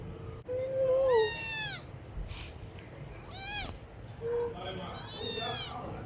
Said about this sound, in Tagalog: tingnan mo ang pusa